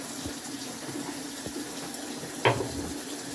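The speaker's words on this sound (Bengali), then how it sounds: "একটু জল দিয়ে দিলাম" Water pours steadily into a cooking pan of prawn and taro stem curry, making a continuous splashing gush with a small knock partway through.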